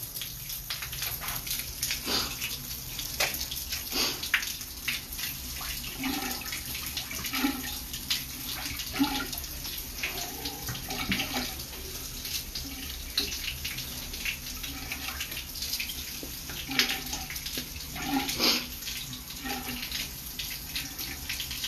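Water runs steadily into a jacuzzi or small pool during cleaning at a pool installation site, a continuous splashing hiss with occasional louder drips and knocks, close by with no talk.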